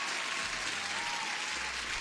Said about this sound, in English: Huge applause for you